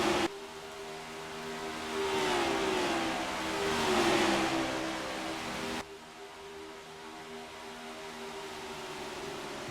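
Race cars accelerating in a sim racing game at Michigan, several engines droning and rising together in a steady mid-pitched roar that swells and fades as the pack battles, then drops abruptly to a quieter engine hum.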